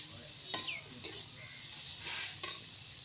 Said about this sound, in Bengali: ভেজানো ছোলা এর মধ্যে দিয়ে দিচ্ছি কিছুটা পরিমাণে।